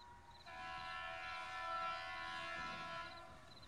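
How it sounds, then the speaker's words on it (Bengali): A train sounds its horn out of a foggy night as it approaches, a sustained layered horn blast swelling and then easing over a faint rumble, somewhat distant, with no talk. "হর্ন দিতে দিতে অন্ধকারে কুয়াশা ছিঁড়ে ট্রেনটার আলো দেখা গেল"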